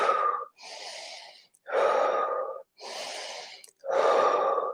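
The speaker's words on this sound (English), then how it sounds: "Breathing deeply." Deep, slow breathing during a low-impact yoga workout for legs and glutes: three long, loud inhales alternating with two softer exhales, each lasting about a second, close up with no talking.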